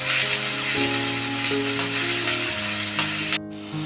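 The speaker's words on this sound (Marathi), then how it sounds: "आणि मिरची पण टाकते चांगलं मऊ पण मी परतून घेते" Green chillies fry in hot oil in a pan for paneer burji, a loud, steady, close sizzle that runs throughout over a faint tonal hum, then cuts off abruptly near the end.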